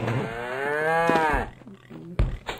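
A cow in the survival game Survivalcraft 2 lets out one long, loud, close moo that falls off sharply, followed by quieter game thuds and clicks.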